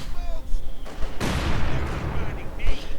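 Mortar blasts and gunfire in the Company of Heroes 2 strategy game, with a loud booming impact in the middle amid rattling shots, under a continuous commentator voice.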